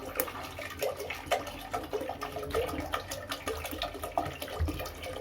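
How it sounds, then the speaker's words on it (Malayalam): Water poured from a one-litre bottle into a stone pot while preparing a betel leaf remedy for chickens, a continuous splashing gurgle at close range with no talk. "ഏകദേശം രണ്ട് ലിറ്റർ വെള്ളം നമ്മൾ ഒഴിച്ചു കൊടുക്കുന്നുണ്ട് ഇതിപ്പോൾ ഒരു ലിറ്ററിൻ്റെ കുപ്പിയിൽ വെള്ളം എടുത്തിട്ടാണ് നമ്മൾ അളവെടുക്കുന്നത്"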